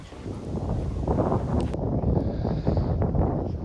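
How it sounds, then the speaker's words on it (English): Gusty wind buffets the microphone outdoors as people walk down to look at a car, a steady low rumble with rustling that continues throughout. "So it's a bit windy, but we're just walking down to it now."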